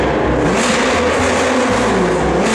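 A Volkswagen GTI roadster engine starts and roars, revving loudly nearby in an exhibition hall, a dense continuous growl rising and falling in pitch.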